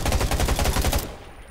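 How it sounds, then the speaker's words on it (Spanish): A rapid burst of gunfire in the video game Undawn, around a dozen quick shots in steady rhythm, close and loud, cutting off abruptly into quiet. "Disparo, pero con sigilo."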